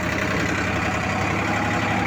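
A tractor engine idles close by, a steady dense rumble with a rough, knocking undertone, heard near a sugarcane trolley stuck in the field.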